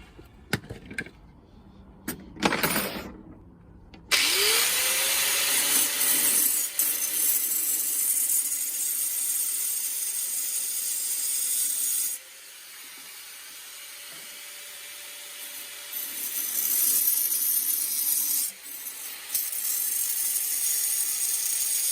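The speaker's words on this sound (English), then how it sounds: "It's a diamond grinder." A diamond grinder cuts through rough steel rods with a loud, steady high-pitched whine and hiss. The cutting runs for several long stretches with brief dips in between. No one speaks.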